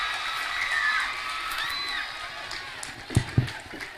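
A crowd at a school competition cheers and whoops, with scattered applause and a few sharp claps near the end, moderately loud and fairly distant.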